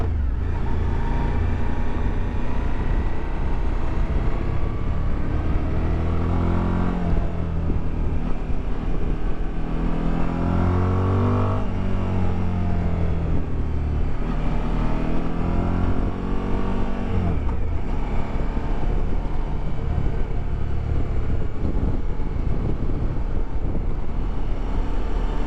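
Suzuki V-Strom 1050 motorcycle engine accelerating through the gears, a loud, continuous close-up drone with rising and falling pitch sweeps as it revs and shifts, heavy wind rush throughout.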